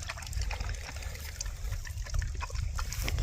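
Water trickles steadily for a dog on a hot, humid Kansas summer day, a continuous close splashing dribble with a low rumble underneath and no talking.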